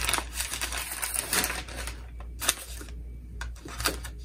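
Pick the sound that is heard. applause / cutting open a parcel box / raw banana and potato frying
cutting open a parcel box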